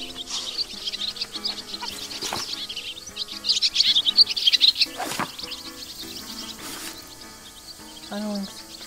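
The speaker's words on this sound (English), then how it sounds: "I was thinking it was a swallow." Swallows chirp in the wildlife game Alba: A Wildlife Adventure, with quick high twittering calls that grow busiest around the middle of the clip over soft game ambience.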